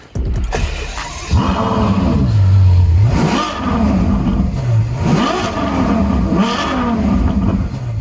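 A Ferrari FF V12 engine revs up in long sweeping roars, rising and falling several times, loud and close with no one talking.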